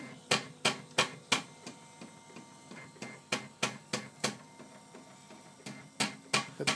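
3D printer running while printing a square, giving a steady series of sharp clicking and knocking motor movements in an irregular rhythm, close and fairly quiet with no voices.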